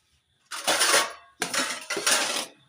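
A pot of freshly cooked food is covered with a lid in a home kitchen, giving a few close, bright metallic clatters and scrapes of lid against rim in two or three short bursts.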